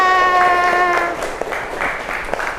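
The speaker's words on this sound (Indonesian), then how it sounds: "Oke, tepuk tangan untuk kita semua." A classroom crowd breaks into applause after a sustained tone fades, clapping continuing steadily with a few sharper claps toward the end.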